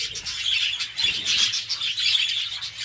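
Young budgies in a breeding aviary chirp and tweet continuously in a dense, busy chorus, close and fairly loud, with faint wing flutters and no talking.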